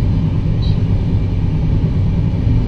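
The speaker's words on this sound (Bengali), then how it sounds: "যে লাইনের উপর দিয়ে এই মাত্রই পাশ কাটিয়ে আরেকটা ট্রেন পার হয়ে গেল" A train rolls past on the neighbouring track, a loud, close, steady low rumble of wheels and cars that holds through the whole stretch with no voices.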